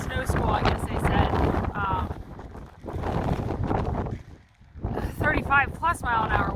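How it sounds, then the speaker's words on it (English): Strong wind of 35-plus mph after a snow squall buffets the microphone with a heavy, gusty rumble, rising and easing in waves, with a person talking over it. "You can see it's really windy right now."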